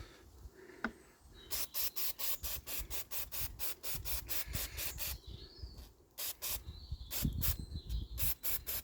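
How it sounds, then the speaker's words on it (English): An Enfield diesel engine injector being cleaned by hand, with a steady run of quick rhythmic rasping rubs, close and dry, pausing briefly before resuming in a faster series. "just cleaning this injector up a bit"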